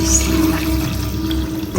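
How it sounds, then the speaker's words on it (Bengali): Hot water poured into soaked, sautéed lentils in a cooking pot, a steady close rushing pour that runs unbroken for a couple of seconds in a home kitchen. "এখন এটাতে আমি গরম পানি দিয়ে দিব গরম পানিটা দিয়ে দিই"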